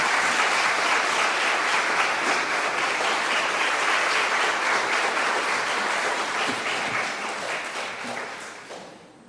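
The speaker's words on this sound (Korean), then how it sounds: "나오실 때 환영의 박수 뜨겁게 부탁드립니다." A church congregation at an afternoon Sunday service claps warmly to welcome a missionary to the front, a full, steady round of applause lasting several seconds before tapering off and fading out at the end.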